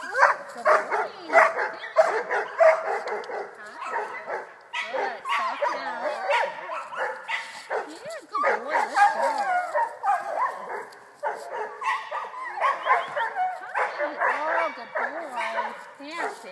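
A dog barks and yips excitedly in rapid bursts, close and loud, with whimpering mixed in and barely any pause throughout.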